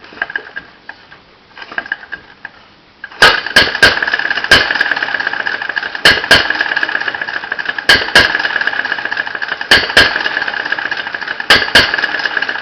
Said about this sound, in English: This is a cold start, so it can be a little bit troublesome until it's warmed up.